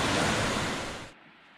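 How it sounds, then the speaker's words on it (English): Water of Red Rock Brook rushes in a loud, broad, steady wash close by, then cuts off abruptly near the end. "So this is Red Rock Brook."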